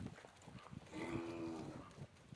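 A hormonal mini zebu bull gives one drawn-out moo, low and fairly close, alone against faint outdoor background noise.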